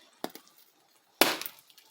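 A knife cracks through the hard, crackling skin of a baked pork belly, a short sharp crunch followed about a second later by a louder, longer crackling crunch, close up and with no talk over it.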